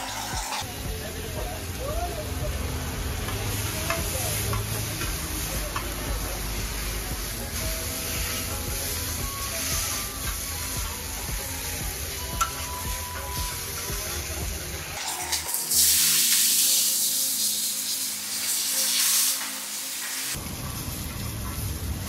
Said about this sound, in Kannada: ಈಗ ಮಸಾಲ ಹಾಕಿ ಇನ್ನೊಮ್ಮೆ ರೋಸ್ಟ್ ಮಾಡಿ ಕೊಡ್ತೇವೆ